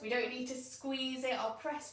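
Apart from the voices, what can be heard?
No everyday noises stand out.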